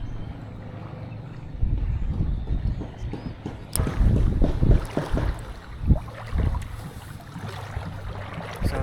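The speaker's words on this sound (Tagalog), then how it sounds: "Sobrang lakas ng hangin guys." Strong wind buffets a small fishing boat out on the water in a steady rush, broken by irregular loud gusts and thumps against the microphone.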